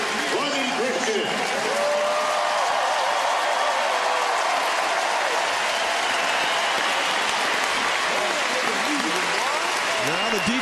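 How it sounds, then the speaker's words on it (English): Stadium crowd at a Clemson vs Citadel college football game applauding senior players, a dense, continuous wash of clapping and cheering, loud and unbroken throughout, with an announcer's voice mixed in. "Now the defensive seniors are getting a round of applause."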